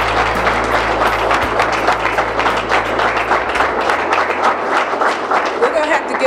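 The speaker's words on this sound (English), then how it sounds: "Let's give Tommie a round of applause." A room full of people at a high school football coach's press event gives a round of applause, with many hands clapping loudly and steadily before the clapping thins toward the end.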